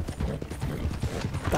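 Hooves of a Norfolk Roadster horse galloping in Red Dead Online, a quick steady clip-clop rhythm of many hoofbeats close by, with a brief whinny-like sound near the end.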